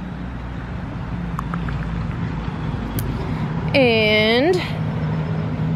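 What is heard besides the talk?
street traffic on a main street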